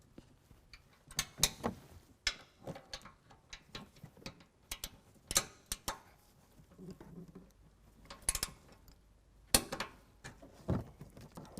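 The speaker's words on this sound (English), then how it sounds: "Next, we're going to go ahead and tighten down the top to 30 foot-pounds, and then the bottom we're tightening down to 50 foot-pounds." A ratchet with 9/16 and 5/8 sockets tightens coilover bolts on a 2018 Ford F-150 for an ICON adjustable lift kit, giving bursts of close, sharp clicking with short pauses between them and no talk.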